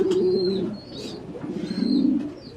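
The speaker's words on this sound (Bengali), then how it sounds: "তো আমরা এখানে একজোড়া কালো পমিনিয়াম পোটার কবুতর দেখতে পাচ্ছি" A pair of black Pomeranian pouter pigeons coo in low, rolling phrases at close range on a farm, with faint high chirps now and then.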